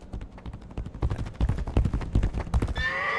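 A horse in the video game Legacy of Kain neighs and whinnies loudly over heavy hoofbeats and clattering action, ending in a sharp high whinny.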